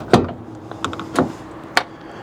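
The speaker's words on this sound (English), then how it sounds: "So let me open this door and show you." A camper van's rear door being opened, with a few separate clicks and clunks of latch and handle, close by and spaced out.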